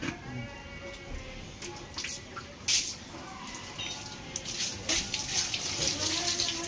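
Water is poured into a bucket of fresh fish at a market, giving a steady splashing gush with some drips and wet sloshing, fairly close, while people talk in the background.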